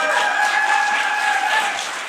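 An audience claps in a dense, steady patter for about two seconds, with faint thin tones held above it, and the sound tapers slightly at the end.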